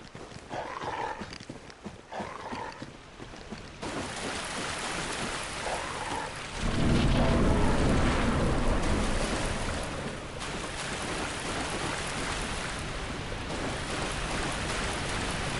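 A waterfall in the video game Dark Souls roars as a continuous broadband wash of rushing water, steady and fairly loud, swelling briefly in the middle with no talk over it.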